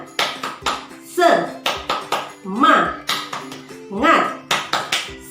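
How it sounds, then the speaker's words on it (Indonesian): Children in a classroom doing the rhythmic tepuk semangat spirit clap, sharp claps in short patterned groups alternating with shouted chanting from the group. "kita tepuk semangat dulu yuk"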